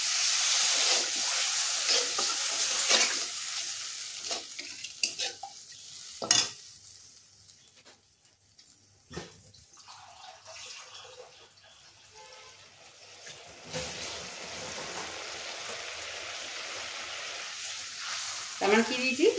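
Water poured into a hot pan of Bengali fish curry with chilli, turmeric, black cumin and tomato paste bursts into a loud sizzle, fades to a quiet simmer with scattered stirring clinks, then sizzles again near the end.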